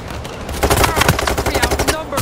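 Rapid gunfire in PayDay 3, a dense run of close, loud shots overlapping in quick bursts, with faint voices mixed in underneath.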